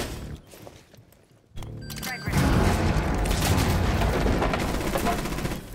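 A grenade blast in a first-person shooter game, set off from below an enemy, lands as a sudden loud boom after a quieter stretch, then a dense roar of gunfire and explosion noise carries on steadily to the end.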